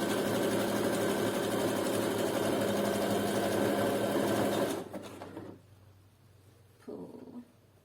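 A sewing machine runs steadily at speed while a thong with rings is being sewn, then stops near the end, leaving only a short, fainter burst of stitching afterward.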